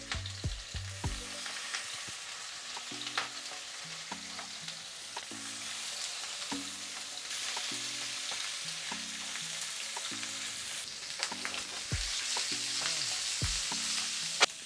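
Salmon sizzling in a small amount of coconut oil in a pan, a soft continuous crackle with occasional pops and utensil clinks, faint and close, with soft background music underneath.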